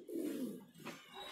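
A soft, low pigeon coo rolls out close by, followed by a quieter second call; no talking.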